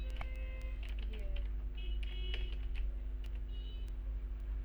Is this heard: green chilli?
no